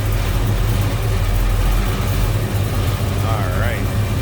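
A 1971 Chevrolet Chevelle Malibu 454 convertible with a V8 and Flowmaster exhaust idles, a deep, steady low rumble that stays close and constant throughout, with a brief faint tonal chirp near the end.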